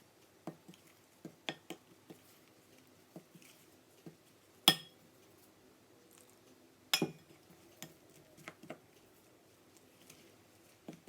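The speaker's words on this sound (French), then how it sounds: "et on mélange" Dough for homemade mini burger buns being mixed in a bowl with sugar, yeast and milk, sparse soft clinks and scrapes with a couple of sharper knocks, close and quiet.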